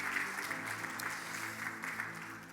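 A church congregation applauds steadily during a Spanish-language worship service, a dense sustained wash of clapping that holds at an even level throughout with no one speaking over it.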